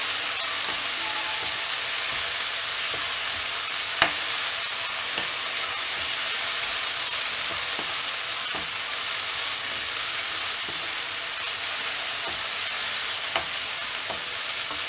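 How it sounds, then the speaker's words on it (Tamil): Coriander leaves sauté in hot oil for a chutney, giving a steady, close frying sizzle throughout with occasional sharp crackles and pops and no talking. "ஜஸ்ட் இது எண்ணெயில் நல்லா மிக்ஸ் ஆகிற அளவுக்கு இருந்தால் போதும். இது ரொம்ப வதக்குனீங்கன்னா இது கருப்பாயிடும்."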